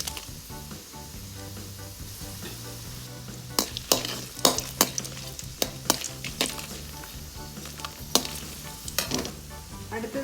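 Dried red chilies fry in hot oil after whole garam masala for a quail pepper roast, a steady close sizzle with a low hum beneath and sharp crackling pops and spatters bursting through in the second half.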